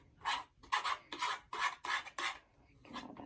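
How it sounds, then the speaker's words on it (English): A thick two-part paste is mixed with a spatula in a quick series of about eight close, scraping rasps with short pauses between strokes; no voices are heard. "You might have to use the whole 2 to 3 minutes for mixing because it is a little thicker."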